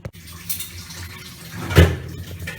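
Water coming almost to a boil in a pot for carrot Maggi noodle soup, a low churning bubble with a brief louder surge near the end, no voices over it.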